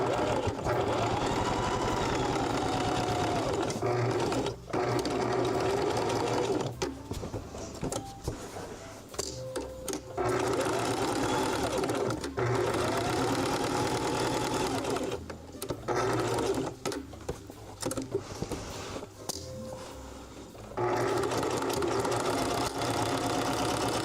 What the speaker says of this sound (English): Just sewed through a jump stitch, but I think it's okay.